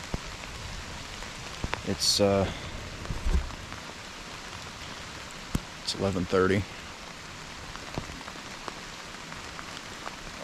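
Steady rain patters on leaves and ground in Pennsylvania woods during archery deer season, a soft continuous hiss broken by a couple of brief spoken remarks nearby.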